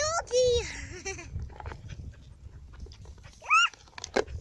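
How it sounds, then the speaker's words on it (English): A dog by the water on an outing to watch swans gives a couple of short, loud barks and whines, mixed with children's chatter and outdoor background noise. "A doggy!"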